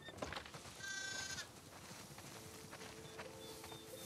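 A sheep bleats once in The Last of Us Part II, a short wavering call heard early over quiet outdoor game ambience with faint clip-clop sounds and soft tones later.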